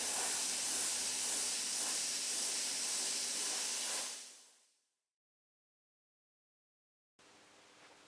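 An airbrush blows a steady, loud stream of air to dry paint on a concrete mould, hissing continuously for about four seconds before fading out. Silence follows, then a softer hiss resumes.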